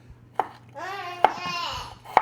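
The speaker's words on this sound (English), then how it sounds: "Okay, these are chopping really nicely, actually." Knife chopping cherries on a board in a home kitchen, a few sharp cutting knocks spaced about a second apart, close and moderately loud, with a voice talking in between.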